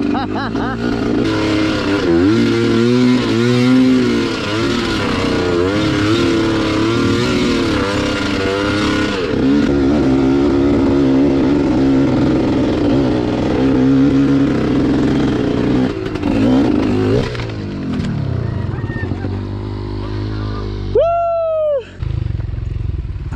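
Motorcycle engine running steadily on a trail ride, a loud continuous drone with shifting revs close by, fading near the end before a brief rising whine; voices talk over it.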